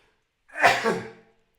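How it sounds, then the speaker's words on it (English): A single sharp sneeze bursts out close by after a moment of silence, then fades quickly. "I have to sneeze"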